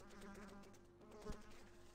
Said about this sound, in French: Ce sont de mouches.